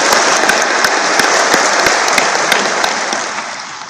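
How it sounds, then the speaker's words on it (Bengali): An audience claps loudly and steadily at a gathering, a dense spread of hand claps that tapers off gradually toward the end. "জোরে হাত তালিয়ে দিয়ে আমরা একটা ধন্যবাদ জানাচ্ছি"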